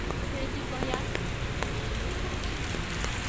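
Steady rain falls on a city street and sidewalk, a dense broadband hiss with scattered drips and splashes, continuous and fairly close.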